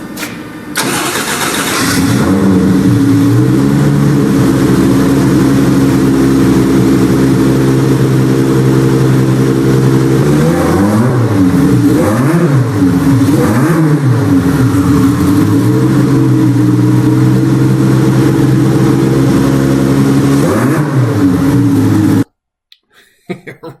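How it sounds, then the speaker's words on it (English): A 1JZ-based V12 twin-turbo engine roars continuously and loudly close by, holding a steady high idle before several sharp revs that rise and fall, then cuts off abruptly near the end. "Step 2, let's rev this bad boy up"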